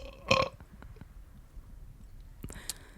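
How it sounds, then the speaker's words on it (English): A man's burp on a podcast, one loud close belch early on, then quiet room noise and a second, shorter burst near the end. "I have to burp again"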